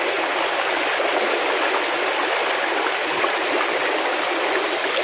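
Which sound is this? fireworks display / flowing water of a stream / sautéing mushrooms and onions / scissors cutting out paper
flowing water of a stream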